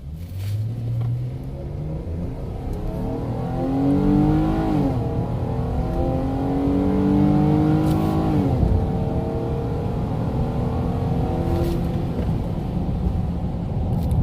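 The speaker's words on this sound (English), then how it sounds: "just to see how this truck gets up to speed getting onto the highway" A six-cylinder Ram 1500 pickup accelerates onto a highway, its engine climbing through several gear shifts with rising, falling revs and a steady cabin rumble underneath, heard from inside.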